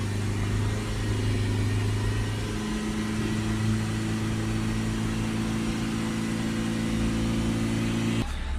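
A Ford Transit 350 MK8 minibus with a 2.2 diesel engine is held steady at about 3000 RPM, producing a loud, constant drone with a stable pitch that drops off abruptly at the very end.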